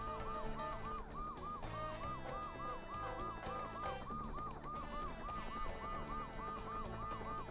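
A police car siren inside a video game wails in a fast, repeating up-and-down pattern, steady and continuous with no talk over it.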